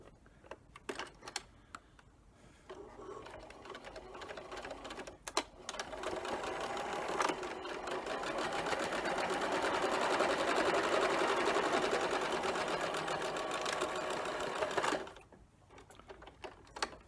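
A sewing machine runs steadily for roughly ten seconds while stitching a fabric face mask, bracketed by quieter handling clicks and short starts before and after the main continuous run.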